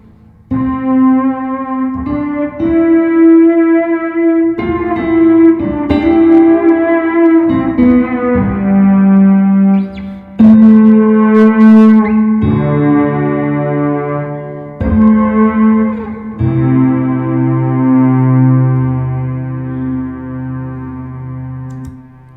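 Sustained guitar notes through a synth pedal ring out one after another, smooth and low-pass filtered with a soft, dark tone and a long reverb wash between changes.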